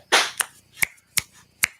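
Hands clapping close to a camera on a bus, five sharp separate claps spaced unevenly over under two seconds, the first one broader and louder, with quiet room tone between them.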